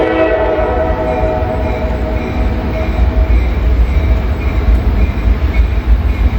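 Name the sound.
freight train passing with horn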